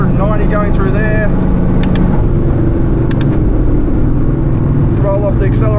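Hyundai i20 N hot hatch engine at speed on the Nurburgring with semi-slick tyres, a loud steady drone from inside the cabin with a voice talking over it.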